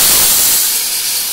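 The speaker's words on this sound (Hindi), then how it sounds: "यहाँ पर अपने लोगों के कुकर की सीटी बज रही है।" A loud, steady hiss of escaping steam as a pressure cooker whistles while cooking a kidney bean curry, with no talk.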